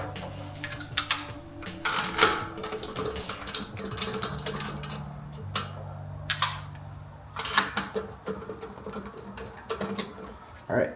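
An impact wrench on a Porsche 911 spins wheel spacer bolts into place in several short, light bursts, each followed by a pause. Between the bursts there are clicks and handling noises.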